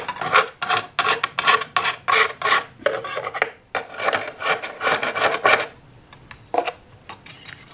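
A metal file trims the rail of model railway track in quick, rhythmic rasping strokes, about two per second, close and crisp, pausing briefly near the end before a few final strokes.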